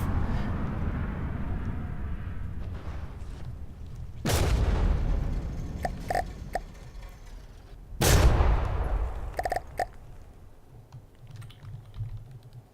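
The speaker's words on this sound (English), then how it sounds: "those cannons have really disabled us now" Cannon fire in From the Depths naval combat: two heavy booms land several seconds apart, each followed by sharper clattering hits, over a low rumbling background.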